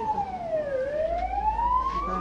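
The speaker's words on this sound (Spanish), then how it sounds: "Podemos observar entonces la ambulancia con las personas heridas." Ambulance siren wailing as the vehicle arrives at a hospital after a combi minibus accident, its pitch sweeping down then rising in a loud, close continuous tone over a low road rumble.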